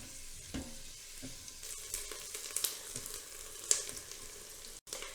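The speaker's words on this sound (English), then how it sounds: "I'm going to stir these around pretty constantly for the next 4 minutes or so" Onions sauté quietly in a pan while being stirred almost constantly, a soft sizzle broken by repeated scrapes and taps of the spoon, close and low in level with no speech.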